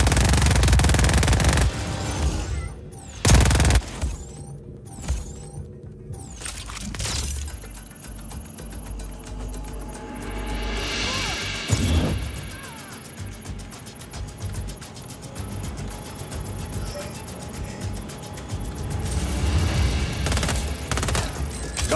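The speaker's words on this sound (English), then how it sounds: "Smart missiles." Smart missiles fire and blow up in Just Cause 4: loud bursts and shattering blasts up front, then sustained rumbling explosions and crackling debris that roll on, heavy and close.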